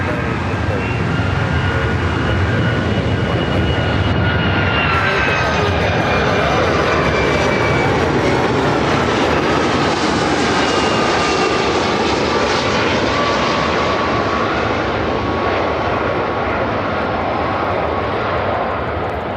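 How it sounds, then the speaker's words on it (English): A United Airlines Boeing 757-300 arriving from Los Angeles lands at Chicago O'Hare, its loud steady jet engine roar with a drifting whine filling the air, while people talk beneath it. "2226 coming in from Los Angeles on the 757-300"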